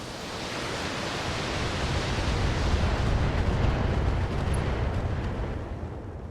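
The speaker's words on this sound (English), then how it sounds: "Fire the missiles." Missiles launch and explode in the mech combat video game BattleTech, a broad, continuous roar of rumbling blasts swelling and sustained at high volume, with no voices over it.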